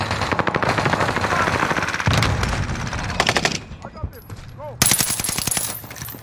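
Rapid machine-gun bursts and gunshots fire in a team-based video game shooter, loud dense volleys with a brief lull before another burst, with voices talking under the gunfire.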